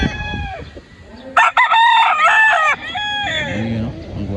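A gamefowl rooster crows loudly and close by in a long drawn-out call, followed by softer clucking and other fowl calls from a farm yard.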